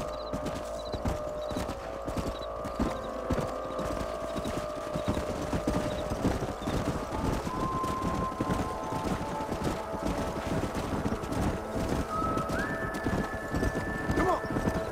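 Horses in the Red Dead Redemption video game clip-clop at a walking pace with steady hoofbeats, and a neigh rises near the end over faint background ambience.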